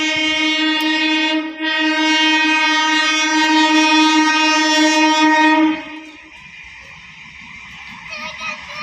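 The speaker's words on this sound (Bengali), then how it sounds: "ওই যে ট্রেন যাচ্ছে" A train sounds a long, loud, steady horn for about six seconds close by on a line beside a house, then the horn stops and the rumble of the passing train carries on more quietly.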